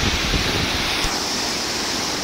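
Water rushes through a rock channel at Natural Bridge on the Upper Rogue River in Oregon, a loud, steady hissing roar with no breaks.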